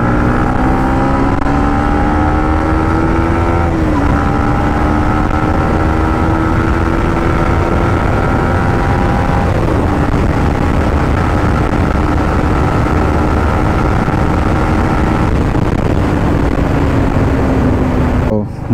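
A Yamaha MT-15 motorcycle accelerates hard along a road. Its loud, close engine note climbs through several gear changes over heavy wind rush.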